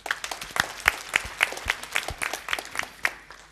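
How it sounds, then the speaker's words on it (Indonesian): A church congregation claps during a pastor's sermon, a fairly sparse, rhythmic patter of hands with distinct individual claps standing out, moderately quiet and steady for a few seconds. "Beri tepuk tangan, saudara."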